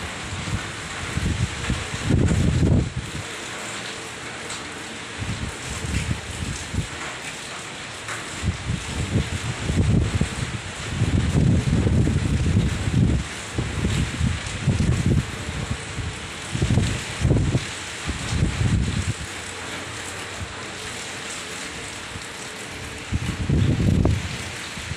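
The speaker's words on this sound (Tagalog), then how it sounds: "Grabe, ang lakas ng hangin." Strong typhoon wind in Baguio City roars in repeated loud gusts that rise and fall, buffeting nearby surfaces amid a steady rainy hiss, with no talking.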